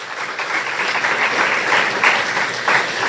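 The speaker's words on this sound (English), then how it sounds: "Give yourselves a round of applause." Audience applause at a Tobago news event, a steady wash of clapping from a crowd that holds even for about three seconds with no speech over it.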